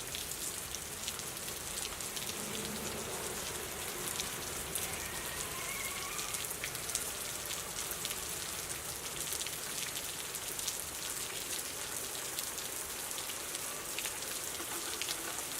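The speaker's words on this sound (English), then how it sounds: "it's raining so hard out here" Heavy rain pours down outdoors in a dense, even hiss of countless drops striking surfaces, loud and unbroken from start to finish with no voices.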